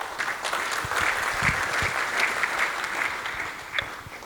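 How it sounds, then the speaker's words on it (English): Audience applause at a real estate forum as the CEO steps up to the lectern, steady dense clapping filling the hall for a few seconds with no one speaking. "A round of applause as we welcome him to the lectern."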